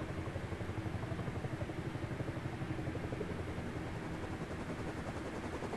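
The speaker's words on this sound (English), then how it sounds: "Helicopter." Helicopter in the video game Rust, a low, steady rotor thrum with rapid regular pulsing that stays even and moderately loud, heard alone without talk.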